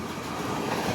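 Sydney Trains Tangara electric train passing through Allawah Station on the T4 line, close and loud with a steady rolling rumble and rapid clicking of wheels over rail joints.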